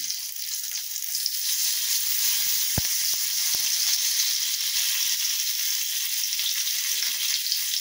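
Curry leaves sizzle loudly as they drop into hot oil for a matki usal curry, a steady bright frying hiss that swells at the start and holds alone, with a few sharp crackles and pops.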